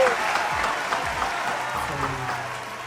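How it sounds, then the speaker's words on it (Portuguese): An audience claps steadily to welcome a guest to an interview, the applause holding at an even level throughout. "Recebam com uma salva de palmas o grandioso Ademir da Guia."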